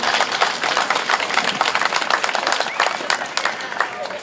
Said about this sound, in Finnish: Otetaan aplodit vaan